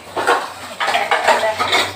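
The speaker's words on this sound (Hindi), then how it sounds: "बर्तन साफ कर लेती हूँ।" Dishes and utensils being washed: a few close, bright clinks and clatters of pots and cutlery spaced across two seconds, with no talk.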